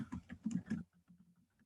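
Computer keyboard typing during a civic league meeting: a fast, close run of key clicks for about a second, then lighter, scattered taps trailing off.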